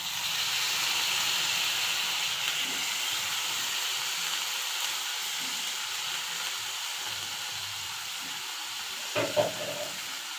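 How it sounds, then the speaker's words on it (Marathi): Cluster beans (guar) tipped into a hot kadhai for a Maharashtrian gavarichi bhaji, giving a steady, close hiss of steam and sizzle that holds evenly throughout, with a brief louder clatter near the end and no talking. "ही गवारी त्याच्यामध्ये कढईमध्ये टाकायची आपल्याला"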